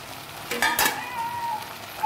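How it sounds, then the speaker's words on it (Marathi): Fried paneer tipped into a pan with cornflour for chilli paneer, a brief loud clatter and burst of sizzling followed by a softer steady hiss. "आता आपण हे जे आपले पनीर घेतलेले तळून ते टाकून घेऊया."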